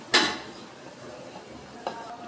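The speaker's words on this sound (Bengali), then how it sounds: "আলুটা এখন তুলে নিচ্ছি।" A metal utensil knocks against a pan as fried potatoes are lifted out: one sharp clank, a quieter pause, then a second lighter clink, close by in a home kitchen with no speech.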